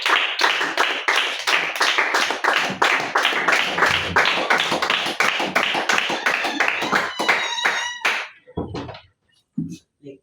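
Children clap hands together in quick rhythm during a Sunday school worship service, with voices chanting along. Then the clapping stops abruptly, leaving a few scattered sounds.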